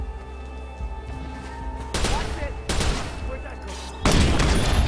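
Gunfire in the video game Watch Dogs: several loud sharp bursts of shots at irregular intervals, the last one heaviest, over a low steady game background hum.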